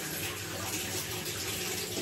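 Water pours steadily from an Aquaguard purifier tap into a mug in a home kitchen, a continuous close splashing gush with no talking.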